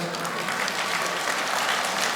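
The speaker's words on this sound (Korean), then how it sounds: "박수 한번 해주세요." Audience applause at a Daejeon-Sejong construction union branch general meeting: dense, steady clapping from a crowd that fills the hall at an even level from start to finish.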